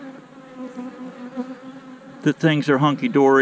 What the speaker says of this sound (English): there was bees coming in with pollen on their legs